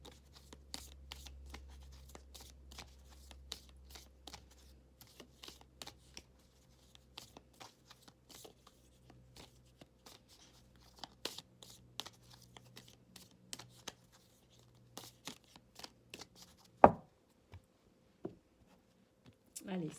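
Oracle cards of an animal spirit guide deck being shuffled and drawn, a long run of soft, quick papery flicks and taps, close and quiet, with one sharper snap near the end and talk in the background.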